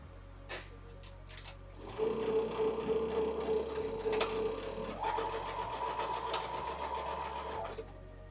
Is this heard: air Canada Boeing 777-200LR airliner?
no